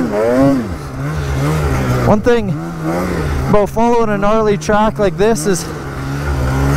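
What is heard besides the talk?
snowmobile engine idling while following a track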